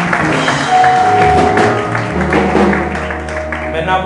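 A church congregation cheers and claps for visiting pastors, a loud mix of scattered clapping and voices over sustained music tones, the crowd noise rising and then easing.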